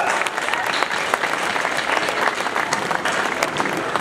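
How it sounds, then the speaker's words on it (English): A concert audience at the Fleadh Cheoil in Ennis, 2017, applauds nineteen harp players on stage with dense, steady clapping that fills the hall evenly for about four seconds without a break. "Let's give them a round of applause."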